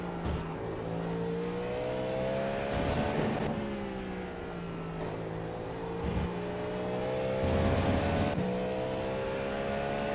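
Race car lapping Sebring at sunset, engine note sweeping and shifting as it downshifts into a big sweeper, a loud, steady drone with pitch drops at each gearchange and no talk.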